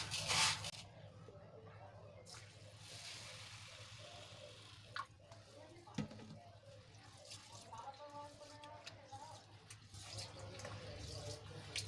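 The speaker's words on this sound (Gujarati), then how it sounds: "તો હવે બંનેને સરસ રીતે મિક્સ કરીને આપણે બેથી ત્રણ પાણી એને ધોઈ લેશું" Water sloshes and splashes softly as rice and lentils are swirled and rinsed in a bowl, with intermittent drips and quiet clinks, close by and faint.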